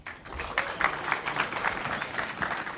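A crowd applauds a presenter introduced as NASA's launch vehicle lead engineer at a NASA Social event for the SpaceX Demo-1 flight, with steady clapping at moderate distance for about three seconds.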